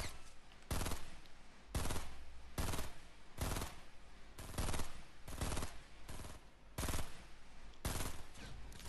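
Repeated gunfire bursts in Fortnite Battle Royale, about nine sharp loud shots spaced roughly a second apart over a steady noisy game background, with no talk.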